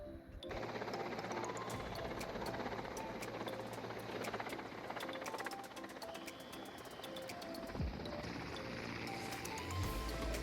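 A helicopter runs close by at a mountain pilgrimage landing site on the Amarnath Yatra route near Panchtarini, its rotor and engine making a loud, steady, unbroken roar that carries through the whole stretch.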